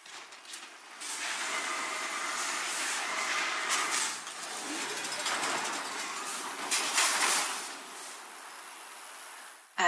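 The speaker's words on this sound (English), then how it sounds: "A train is coming through the western tunnel." A train passing through the western tunnel in StarCraft II, a hissing, rattling rumble that rises after a quiet start, holds for several seconds, swells again and then fades, with no talk over it.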